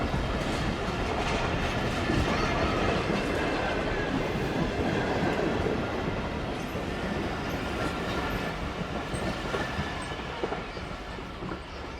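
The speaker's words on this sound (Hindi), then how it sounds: "तो PLC की वजह से काफ़ी स्लो गई है ट्रेन, वरना ट्रेन यहाँ से अच्छी स्पीड में उतरती है जी।" A train rolls slowly through Mali railway station in Pakistan, a dense continuous rumble with rhythmic clickety-clack of wheels over rail joints, steady and close throughout.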